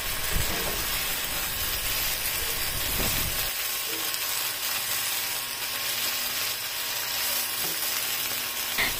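Eggplant frying in a pan and being stirred, a steady broadband sizzle running throughout with a brief stirring scrape near the start, loud and close.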